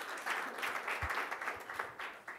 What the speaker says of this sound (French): Vous pouvez applaudir, hein, vous avez le droit.